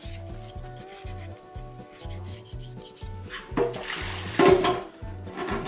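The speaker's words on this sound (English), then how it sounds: "Go ahead and scrub up your magnets and all those spots too and get them clean." Rhythmic scrubbing of an Osprey Hydraulics LT hydration reservoir, a steady repeated rubbing with low thumps and splashy water noise swelling louder toward the end, with no talk.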